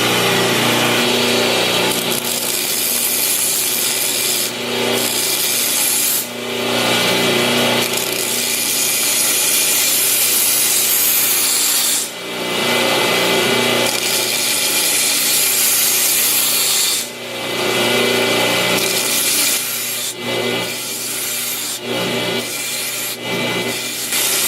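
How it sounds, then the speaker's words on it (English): A knife edge is ground to a straight line on a grinder, giving a loud, continuous abrasive hiss broken by several short pauses as the blade is lifted and set back down. "Grind a straight line."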